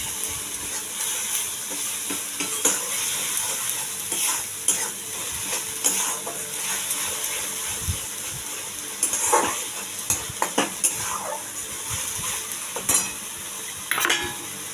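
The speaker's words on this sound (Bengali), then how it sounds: "মশলাটা ভাজা ভাজা হলে আমি দিয়ে দেবো তখন সর্ষে বাটাটা।" Spices with chilli powder and salt sizzle in a pan for a prawn malai curry, a steady close frying hiss broken by repeated stirring scrapes and light pan clatter, with no talking.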